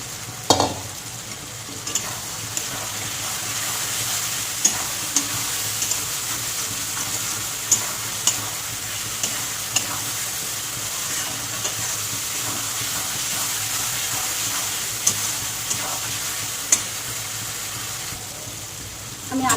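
Fried potatoes stirred into a spice masala for ghugni, a loud, steady sizzle with regular light scrapes and taps of the spoon against the pan.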